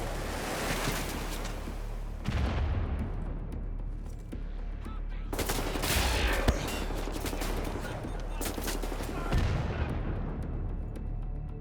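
Gunfire in Wolfenstein: The New Order, several loud sustained bursts of automatic fire with booming blasts and decaying echoes between them.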